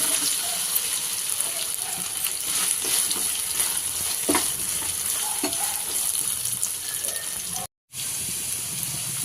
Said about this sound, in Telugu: మనం బెండకాయ ముక్కలు తీసుకున్నాం కదా ఆయిల్ వేసుకొని ఆయిల్లో బ్రౌన్ కలర్ వచ్చే ఫ్రై చేసుకోవాలి